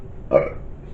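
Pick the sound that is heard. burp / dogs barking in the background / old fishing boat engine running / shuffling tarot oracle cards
burp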